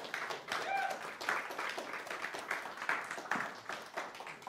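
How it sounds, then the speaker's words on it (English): A church congregation applauds in a room, with a fairly faint, steady patter of many hands clapping and a few murmuring voices mixed in. "Give him a round of applause for hanging out with us."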